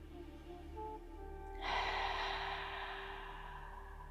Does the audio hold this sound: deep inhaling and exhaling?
yes